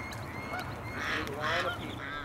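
Urban geese being rounded up into a capture pen honk loudly and repeatedly, several close calls overlapping in a short noisy burst.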